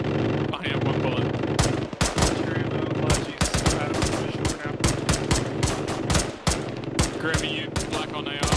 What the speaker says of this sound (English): We all stopped shooting so Krim can get a couple of kills in.